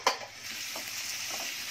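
Spices frying in a pan for a white chana ragda, a soft steady sizzle with a few light stirring scrapes and a brief clack at the start, quiet and close.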